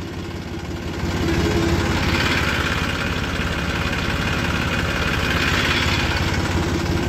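A heavy diesel tractor engine idles nearby with a steady, throbbing chug that grows slightly louder after a second and holds evenly.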